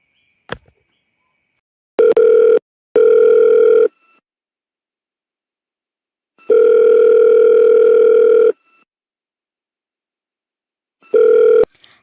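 In a radio play a telephone handset gives a loud, steady dial-tone hum in four separate bursts of differing length, the longest about two seconds, with silent gaps and faint clicks between them and no talking.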